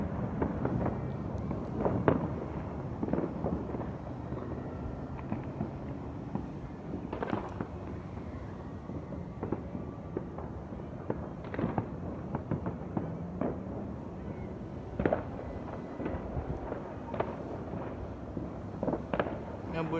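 New Year's Eve fireworks crackle and boom continuously, with sharp louder bangs scattered through a dense rumbling barrage. Voices murmur faintly beneath the explosions.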